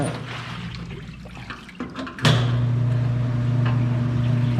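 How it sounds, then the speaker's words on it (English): Washing machine pumping out water and spinning its tub starts with a sudden clunk, then settles into a loud steady hum with splashing water, following quieter rattling. "We're going to let it pump the water out and make sure that tub spins."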